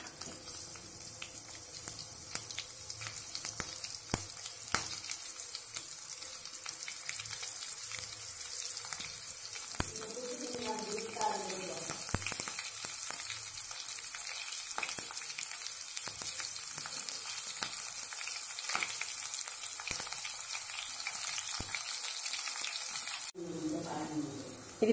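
Green chillies and curry leaves sizzle in hot oil for a tempering, a steady close crackle that runs throughout, with brief stirring noises and a louder burst near the end.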